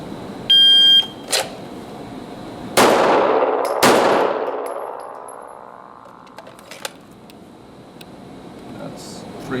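Pistol fired at small SRA steel targets during a training drill: an electronic timer beep, then two sharp, loud shots about a second apart, each followed by a ringing metallic clang that fades slowly.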